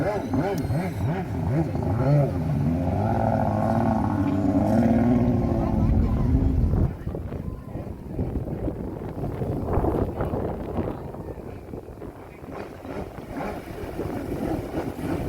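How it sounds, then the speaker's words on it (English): Jet ski with a two-stroke engine spinning 360s on water at an agricultural show, a loud revving drone that drops to a rougher, fainter whine mixed with wind noise partway through. "just to give it all that power to the two-stroke engine"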